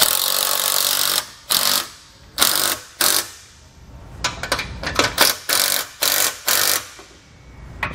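Bolts on a Blue Ox TrackPro weight distribution hitch being tightened down with a ratchet wrench, close and loud, in repeated bursts of quick clicking strokes separated by short pauses.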